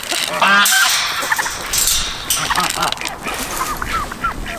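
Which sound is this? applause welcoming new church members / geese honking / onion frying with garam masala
geese honking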